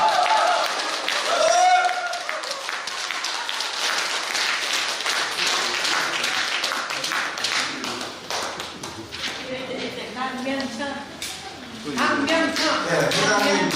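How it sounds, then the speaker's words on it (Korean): An audience claps at a party founding rally in a Busan hall, a dense patter of applause with voices speaking over it and amplified talk breaking through near the end. "다 함께 승리를 위하여 힘찬 박수 부탁드리겠습니다."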